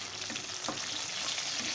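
Dry red chillies, mustard seeds and curry leaves frying in hot oil for a South Indian sambar, a steady close sizzle with crackling spits throughout.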